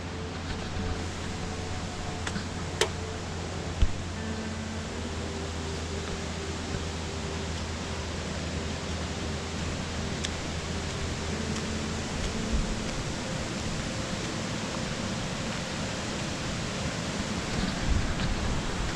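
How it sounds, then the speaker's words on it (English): Water of Fooses Creek runs steadily as a broadband wash, close and continuous for the whole stretch, with a faint low hum underneath and no talking. "So this is, I believe this is Foos's Creek right here"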